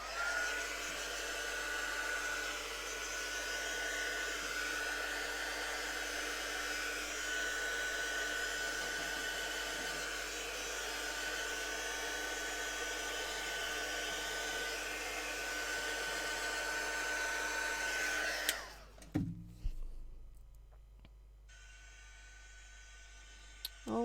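A heat tool drying paint on a metal object blows with a steady, loud whooshing hiss for about eighteen seconds, then switches off, leaving a few clunks and quiet handling noises.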